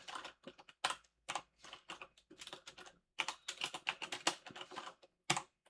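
Keystrokes on a computer keyboard entering a Linux mount/remount command, quick bursts of clicks in uneven runs with short pauses, close and alone.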